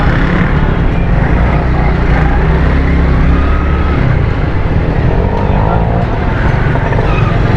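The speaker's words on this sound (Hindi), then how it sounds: "यहाँ से गाड़ी आ रही है।" Car engine rumble passing along a street in a busy Karachi market area near Pakistan Chowk, a steady loud drone with road noise throughout, no talk.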